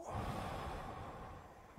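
A single soft, sighing breath, quiet and close, with a gentle airy exhale that tapers off toward the end.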